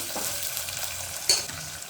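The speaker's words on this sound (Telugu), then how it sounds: "ఇప్పుడు పోపు చక్కగా వేగాలండి" Green chilli slits tempering in hot oil, with a pinch of salt added, crackle and sizzle in a steady, close hiss with a few brief louder pops.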